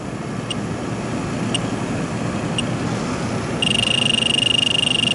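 Refrigerant leak detector at a florist shop's pressure control sounding over a steady motor hum: a few sparse beeps at first, then a rapid continuous high-pitched beeping as it picks up the leak.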